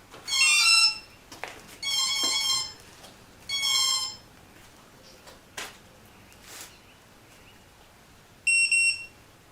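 A Parallax Elev8 quadcopter beeps as it powers up: several short, shrill electronic tone bursts in a spaced sequence, then a final pair of quick beeps, with quiet gaps between them.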